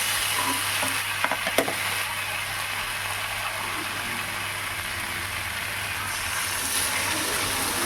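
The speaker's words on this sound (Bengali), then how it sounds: "এবার আমি জল দিয়ে দেবো" Spiced taro and potato curry fries and sizzles steadily in a pan after water is poured in, with a few sharp clinks of a utensil stirring early on and no voices.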